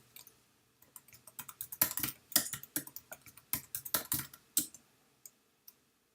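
Someone types a password on a computer keyboard in a quick, irregular run of close, crisp key clicks lasting several seconds, then a few scattered final taps, with no talking.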